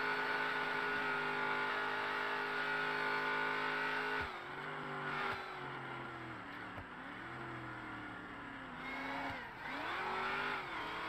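A game car's engine revs hard, pitch climbing steadily, then drops into repeated gear-shift dips and swells as it accelerates, loud and close with no talk.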